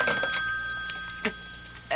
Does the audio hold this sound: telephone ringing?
yes